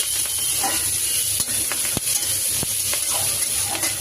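Panch phoron spices hitting hot oil in a wok: a close, steady sizzle scattered with sharp crackles and pops as the seeds splutter, with no talking.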